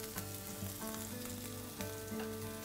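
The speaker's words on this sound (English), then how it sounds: "We're going to stir this on high flame." Garlic sizzles in a pan over high flame while it is stirred. Steady close frying crackle is broken by soft scraping stirs, with no talking.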